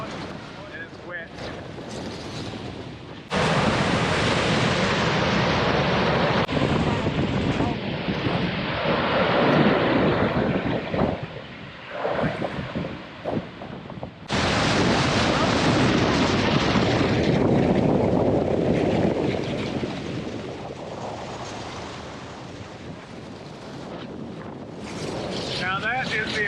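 The American Falls at Niagara roar as a steady, loud broadband rush heard from a boat nearby, mixed with buffeting wind across the microphone and broken by short quieter gaps.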